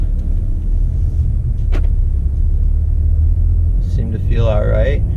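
A Ford Focus RS fitted with Mountune sport springs, heard from inside the cabin while driving through a neighborhood: a steady low road rumble and engine drone throughout, with a brief voice near the end.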